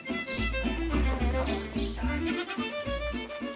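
Goats on a farm bleat in overlapping calls, near and loud, with a steady wavering, layered bleating that fills several seconds and no speech over it.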